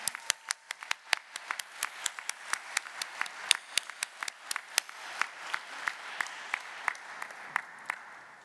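Graduating students at a university commencement ceremony receive applause, a sparse scattering of distinct individual claps from the audience, fairly close and rhythmic, with no voices over it.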